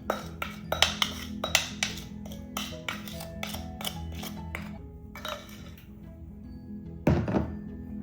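A baking pan being handled on a kitchen counter while cooking corned beef, with a series of close, dull thunks and light metallic clinks in irregular rhythm, ending in a louder clatter.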